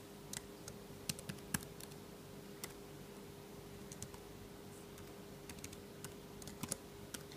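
Username typed on a computer keyboard while setting up an Avalon mining rig, scattered light key clicks in short bursts and single taps over a steady low hum in a quiet room.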